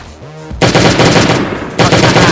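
Gunfire in the survival game Last Day on Earth: Survival comes as two loud, close bursts of rapid automatic shots, the first about half a second in and the second shortly before the end.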